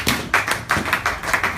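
A church congregation at a Bible study claps hands for the Lord, a loud run of about a dozen sharp claps in an uneven, bouncy rhythm.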